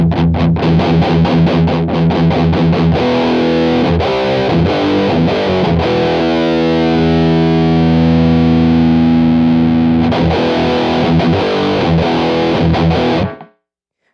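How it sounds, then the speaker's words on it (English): Electric guitar through a drive pedal and a Kuassa amp simulator plugin: loud, saturated distorted chords, first strummed rhythmically, then left ringing in a long sustained chord that cuts off at the end, no talk. "We're going to go for a drive, lower the output, and see how that sounds with the amp sim on."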